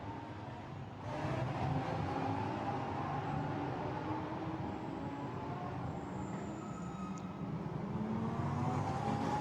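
Lamborghini Super Trofeo race cars circulate at the Barcelona circuit, a continuous engine drone that swells as cars pass, heard at a moderate distance without any talk.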